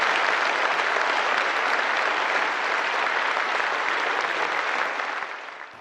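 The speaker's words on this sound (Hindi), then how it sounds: "इन तालियों की गड़गड़ाहट से मत बहकिए" Thunderous applause from a large crowd at a political rally, a dense unbroken roar of clapping that holds steady and then tapers off at the end.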